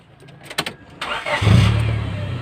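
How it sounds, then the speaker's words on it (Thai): A 1996 Honda Civic automatic engine cranks with a few sharp clicks, then catches and settles into a steady idling rumble, close and fairly loud. "แล้วจะสตาร์ทเครื่องให้ฟังด้วยนะคะ"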